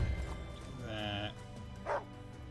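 Hound in the Wargroove strategy game gives a couple of short, tonal bark-like calls, one longer and one brief, heard clearly over soft game background with no one talking.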